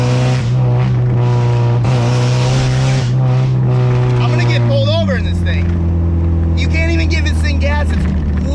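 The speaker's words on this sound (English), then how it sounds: "I hate the exhaust." A loud, droning exhaust from a Mazda Miata under throttle holds a steady buzzing note, then drops in pitch as the gas eases, with faint tire and road noise behind it.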